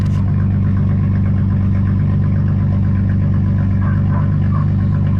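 A Jeep engine idles with a deep, steady rumble that sounds unmuffled, running close and loud with a low throbbing pulse and no pauses.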